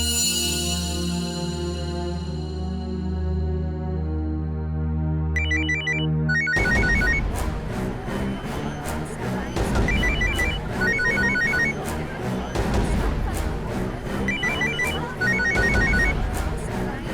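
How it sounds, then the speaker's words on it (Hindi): In a courtroom scene from a TV drama, a mobile phone rings loudly with a repeating electronic melody that keeps going, heard alone without talk. "आप उठाइए अपना मोबाइल, उठाइए ना।"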